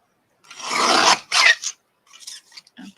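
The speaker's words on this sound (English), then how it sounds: "I'm going to trim this down just a little" Cardstock being trimmed for a Christmas colouring project: two close rasping cuts, a longer stroke then a shorter one, followed by fainter scattered paper rustles and light handling.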